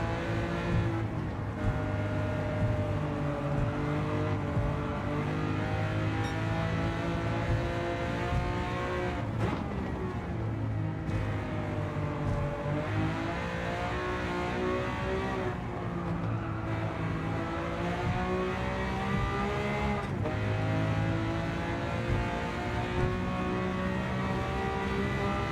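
Lamborghini Countach engine in Gran Turismo 7, racing on a wet Tokyo circuit, a steady loud droning roar that rises and falls with gear changes and revs throughout, close and continuous with no talking.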